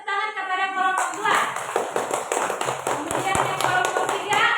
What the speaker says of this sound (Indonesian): Berikan tepuk tangan kepada kelompok 2.